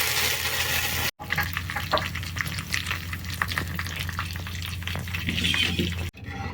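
Dried chillies, garlic and curry leaves frying in hot oil for a tempering, a steady close sizzle with scattered crackles and pops, broken by two brief silent gaps.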